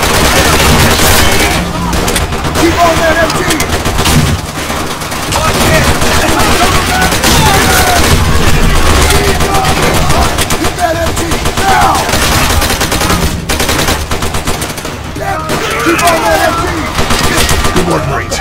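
Sustained machine gun fire from the Pacific-front WWII shooter Call of Duty: World at War, a loud, dense rattle of rapid bursts running almost without pause, layered with other battlefield gunfire.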